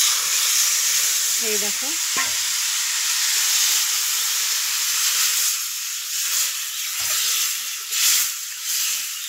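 Ground spice paste mixed with water is poured into a hot pan, setting off a loud steady hiss and sizzle that runs throughout, with a brief spoken word near the start.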